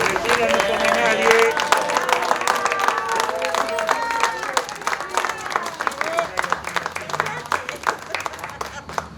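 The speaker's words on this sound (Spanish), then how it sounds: "Ahora un aplauso especial para Graciela" Crowd applause at a health event in Mar del Plata, steady clapping with scattered cheers running throughout, mixed with music and voices underneath.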